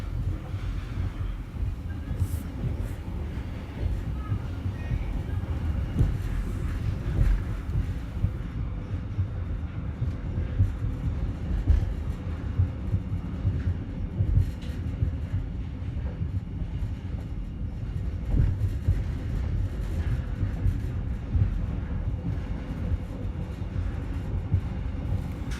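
A train rolls through the Vietnamese countryside toward Dong Hoi, with a continuous low rumble, recurring wheel thumps and rattling carriage noise heard from inside.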